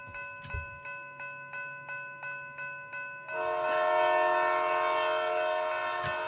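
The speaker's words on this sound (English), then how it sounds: "Becky was taking her goods train to Oakwood" A crossing bell dings in a steady rhythm, then a goods train's horn blares long and loud as the train comes through.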